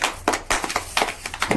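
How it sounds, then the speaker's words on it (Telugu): Children clapping loudly during an English alphabet guessing game, a close, uneven run of about eight sharp claps with ragged gaps, no clear speech over them. "క్లాప్స్ కొట్టండి. బిర్రి క్లాప్స్ కొట్టాల."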